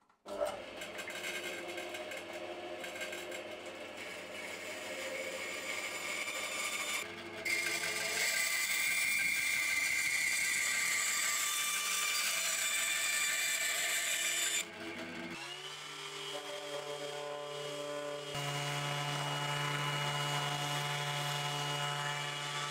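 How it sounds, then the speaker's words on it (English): Bandsaw running steadily as it cuts through a wood block, then a continuous sanding whir shifting in pitch, all close and fairly loud with no talking. "Then I'm going to get it cut out on the bandsaw and give it all a sand."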